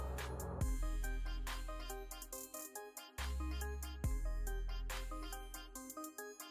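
Startup chime of a Tecno Camon 30 Premier 5G smartphone at first power-on: a loud melodic musical jingle with repeated bright synth notes and deep bass swells, played alone without any talk.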